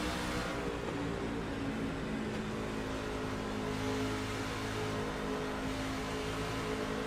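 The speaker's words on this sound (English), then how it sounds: "As you hear Truth Hope play with that throttle" A NASCAR truck's engine in a racing video game at Dover, a steady droning roar as the throttle is worked coming out of a corner, continuous and fairly faint, with no voices over it.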